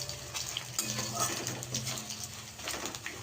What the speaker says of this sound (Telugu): పల్లీని లో ఫ్లేమ్లో కొంచెం గోలనివ్వాలి. పల్లీలు కొంచెం వేగాక ఇంకా ఇందులో కొంచెం ఎండుమిర్చి వేసుకోవాలి.